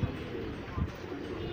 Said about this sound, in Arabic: حمام غزار